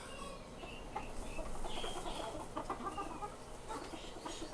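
Serama chickens, hens and a rooster, clucking and chattering softly nearby in a busy flock, overlapping short calls and faint chirps forming a continuous low-level babble.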